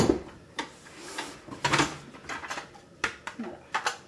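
A Companion XL food processor is opened after chopping an onion. Several light plastic clicks and knocks of the lid and bowl are heard close by, spaced irregularly over a few seconds.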